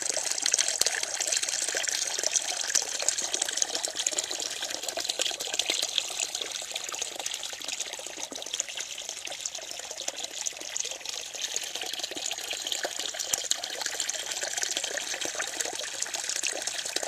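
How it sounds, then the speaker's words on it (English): A small waterfall in the Amazon headwaters pours steadily close by, a continuous bright rushing splash that never lets up, with no voices over it. "Another little tiny waterfall."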